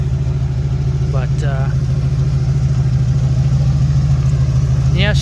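A 1984 Hurst/Olds V8 idles loud and steady with no mufflers fitted, a deep continuous rumble throughout, with brief higher chirps or whistles breaking through twice.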